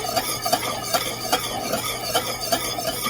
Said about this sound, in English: So I'm gonna add my salt, black pepper, and nutmeg. I'm gonna whisk that in.